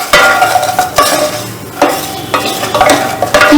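Crushed onions fry in a pan for a bamboo shoot curry, loud and close, as a spoon scrapes and stirs in several strokes over a steady sizzle, with no voices.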